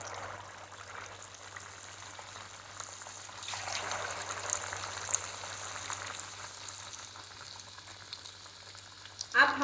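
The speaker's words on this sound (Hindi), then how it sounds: "फिर चिकन इसके अंदर डालने के बाद मीडियम फ्लेम में उसको आहिस्ता आहिस्ता फ्राई कीजिए" Chicken pakoda pieces, bone-in chicken, sizzle and crackle in hot oil over a medium flame, a steady close frying hiss that swells partway through, with no talking.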